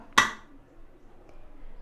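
A metal whistle is set onto a pressure cooker lid with one sharp, close metallic clink, followed by near silence.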